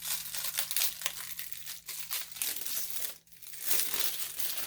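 Thick plastic wrapping crinkles and crackles steadily as a large roll of flat-lay photo backdrop paper is unwrapped, loud and close, with a brief lull near the end before the rustling resumes.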